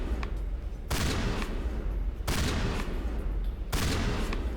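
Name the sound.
gunfire shooting boxes in the video game Mass Effect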